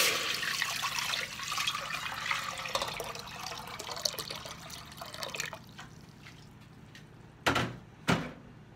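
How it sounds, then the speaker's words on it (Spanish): Water poured from a container into a small pot on a kitchen stove, a steady rushing splash for several seconds that tapers off, followed by two short sharp knocks near the end. "Le voy a agregar el litro de agua."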